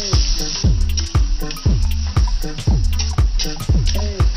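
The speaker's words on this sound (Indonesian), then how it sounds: "Kemudian kita masukkan irisan tomat. Tumis tomatnya hingga layu." Sliced tomatoes and chili sautéing in a pan, a loud steady sizzle broken by repeated rhythmic scraping strokes as the mixture is stirred, close up with no voices.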